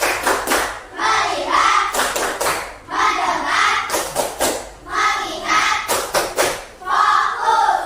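A school class claps in quick rhythmic bursts, several claps together then pauses, repeating in patterned sets as an Indonesian clapping routine, with children's voices mixed in.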